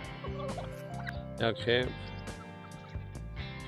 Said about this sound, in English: Those two roosters. There we go, there's one.